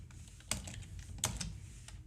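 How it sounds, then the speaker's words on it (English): Someone is coding in Blazor and ASP.NET Core and typing on a computer keyboard, making quiet, scattered key clicks with a couple of sharper taps and no voice. "Typing is hard."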